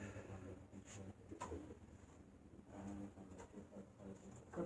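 A pigeon coos softly in the low range, a few faint repeated calls over a quiet background with occasional light knocks.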